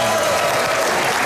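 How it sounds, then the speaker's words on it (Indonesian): Studio audience applause on an Indonesian TV talk show, a dense, steady burst of clapping from a crowd, loud and continuous. "Dan tepuk tangan untuk penontonnya."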